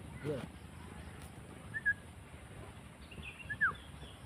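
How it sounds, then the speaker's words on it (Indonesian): Two brief bird chirps, faint and thin, stand out at intervals over a steady low background hum. "Oh, iya, ada burung"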